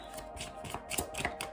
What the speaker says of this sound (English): I'm glad that I kept shuffling.